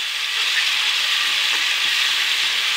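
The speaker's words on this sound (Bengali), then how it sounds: "এটাকে একটু ভেজে নিচ্ছি" Ginger-garlic paste sizzles and fries steadily in a pan, a close, continuous hiss with no talking, heard as part of cooking a tamarind and taro (kochur mukhi) curry.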